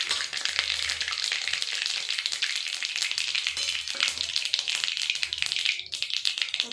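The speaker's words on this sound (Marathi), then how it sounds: "तर जिरं टाकून घेऊ।" Cumin seeds sizzle in hot oil with mustard seeds already in the pan, a steady dense crackling hiss with scattered pops running throughout, close and fairly loud, with no talking.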